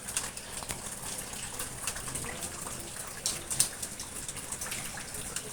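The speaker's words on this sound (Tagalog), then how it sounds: "Biglang-bigla po ang ulan." Sudden steady rain pours outside a house gate in Batangas, a dense even hiss with scattered drips and patters over nearly six seconds, with faint bird calls in the distance.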